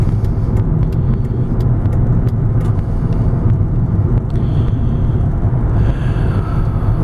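Steady, loud road rumble and engine hum inside a 2001 Volvo S80 sedan while driving, a continuous low drone with faint ticking and no voices.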